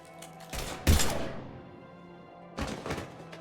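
Gunfire in the sci-fi shooter Mass Effect 3 comes as two separated clusters of sharp, heavy bursts with a fading tail between them, set against a low steady background hum.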